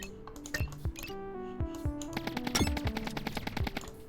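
Rapid gunfire from the video game Brute, a dense run of sharp repeated shots mixed with electronic game tones and music, steady and close with no talking.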